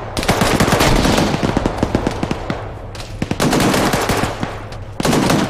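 Sustained automatic gunfire in an Arma 3 firefight during a VIP escort mission in Fallujah, with rapid overlapping bursts and single shots crackling nonstop, loud and close, with brief lulls before another heavy volley.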